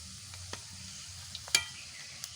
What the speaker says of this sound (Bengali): এবার আস্তে আস্তে ভাজা হবে আস্তে আস্তে জাল দিয়ে এটা ভাজতে হবে